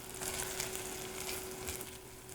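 Soaked rice stir-fries in a pot for squid pot rice, a soft, steady sizzle with faint scraping of stirring, quiet and even throughout with a low background hum.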